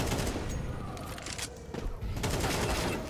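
Gunfire from a USP pistol in Counter-Strike 2 during a competitive match, a dense run of shots and impacts that stays loud throughout, blended with other game sounds.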